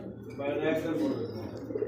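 A pair of Jharna satin pigeons coos softly at a farm, low rolling calls close by with steady background murmur.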